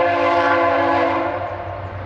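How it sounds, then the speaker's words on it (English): A loud, close train horn blares in a sustained chord over the low rumble and rhythmic clatter of a passing train. "Let this train go by."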